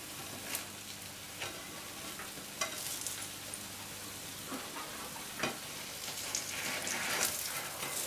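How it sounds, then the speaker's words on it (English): A sourdough pancake cooks in a frying pan with a steady, quiet sizzle, broken by a few soft clicks and taps. No one speaks. "Pancake's been cooking a couple of minutes now and it's nearly ready to turn."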